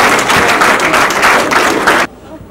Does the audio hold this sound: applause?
yes